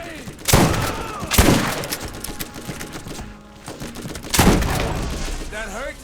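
Short bursts of machine-gun fire in a video game, a cheap low-quality weapon, cracking in a few loud volleys amid game effects while a voice talks over them.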